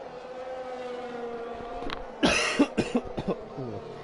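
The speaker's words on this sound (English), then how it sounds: "I do apologise, I'm going to keep coughing all night." A burst of several harsh coughs in quick succession, close to the mic, over a steady low engine drone from an F1 2021 race at Singapore.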